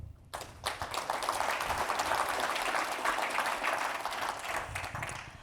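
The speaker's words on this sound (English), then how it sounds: "I just want to give a big round of applause for all the work that they do" Audience applause at an annual general meeting, a sustained wash of many hands clapping that starts abruptly and holds steady and fairly loud for about five seconds with no voices over it.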